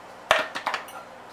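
A utensil handle clatters against a bowl as pizza dough for a thin crust gets mixed, one sharp knock followed by a few lighter scraping taps, close up and brief, with no voices.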